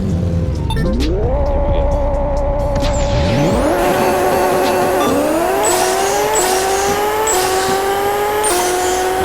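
A race car in Pixel Car Racer launches hard off a clutch drop, tires squealing as the engine revs climb through several quick upshifts, loud and continuous with rising pitch after each gear change.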